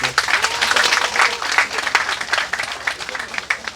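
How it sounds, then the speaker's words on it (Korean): Crowd applause at an awards ceremony closing a lure-fishing contest for bigfin reef squid in Yeosu, South Korea: a crowd claps in uneven, scattered bursts with audible individual claps, and murmured voices underneath. "다시 한번 박수 한번 주시고"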